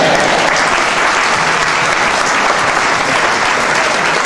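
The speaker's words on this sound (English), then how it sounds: "Please continue clapping. Continue clapping." A large audience claps continuously, a loud, dense and steady wash of applause with no break and no voices standing out.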